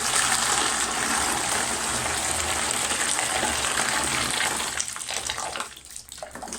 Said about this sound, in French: je verse donc de l'eau chaude